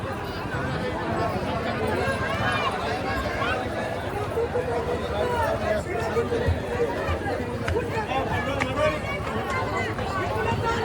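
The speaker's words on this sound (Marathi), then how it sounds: "जाम गर्दी आहे." Dense crowd chatter fills a busy temple at Akkalkot, a steady babble of many overlapping voices with footsteps and movement, loud and continuous throughout.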